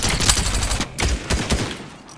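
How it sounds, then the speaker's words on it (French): Several bursts of video game gunfire crack in quick succession, loud and close, with short pauses between volleys. "je vais mettre quelques balles"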